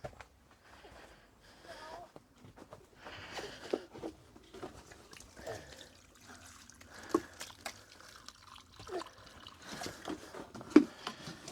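Diluted comfrey feed is poured from a watering can over tomato plants from the top, a soft intermittent trickle and splash that stops and starts as each plant is dosed, fairly faint and close.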